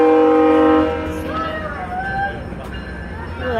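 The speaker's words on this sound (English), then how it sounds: "Loud horn." A GO Transit train sounds a loud, sustained multi-tone horn at Maple station, holding for about a second before giving way to the rumble of the arriving train and a faint whistle-like tone, with people talking nearby.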